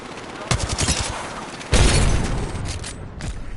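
Video game gunfire in rapid bursts, a rattling volley followed by a heavier booming stretch of automatic fire, loud and close.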